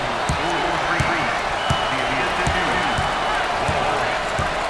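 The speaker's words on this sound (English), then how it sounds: "Listen to the crowd." A roaring arena crowd in a college basketball video game cheers steadily, with sharp ball bounces and squeaks punctuating the constant noise.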